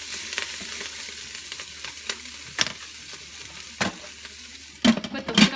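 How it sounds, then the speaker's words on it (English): Food sautéing in an Instant Pot on the saute setting, a soft continuous sizzle broken by a few spoon knocks and scrapes against the inner pot, with a louder clatter of stirring near the end. "I'm going to give it a little stir"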